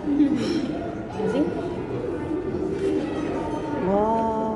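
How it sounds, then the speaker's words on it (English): Pigeons coo in a park, with several soft, throaty calls rising over a busy outdoor background while people talk nearby. "You see, you see, you see the bird."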